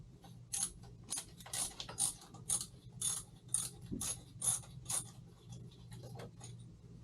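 A ratchet wrench loosens a bolt on the front fork of a 1985 Honda VT1100C motorcycle, giving a quiet, close series of quick clicking bursts in an even back-and-forth rhythm.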